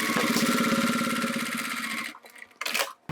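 A sewing machine sews through the thick layers of a zippered wallet, close and loud, running at a fast steady clatter for about two seconds, then stopping, with a short burst of stitching after it.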